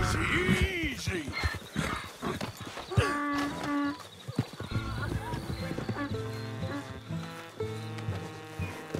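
Horse in the video game Red Dead Redemption 2, with snorts and hoof clip-clops up close alongside other farm animals such as cattle, under continuous game ambience and music.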